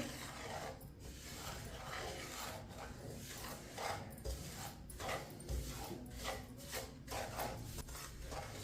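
Semolina stirred into ghee in a pan, a steady scraping and rasping of a spoon against the metal with repeated rhythmic strokes, close and moderately loud, with no voices.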